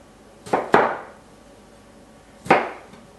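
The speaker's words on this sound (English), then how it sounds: "I'm going to cut them in half, and then once I'm in there in half, I'm going to slice them about 3/8 of an inch" Three sharp knife chops through tomatoes on a board, two close together and a third after a pause, each a crisp close thud with a short fading tail.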